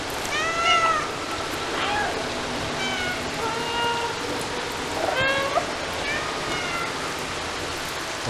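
A cat meows repeatedly in the video game Stray, several short rising and falling cries at moderate loudness over a constant rushing, rain-like background.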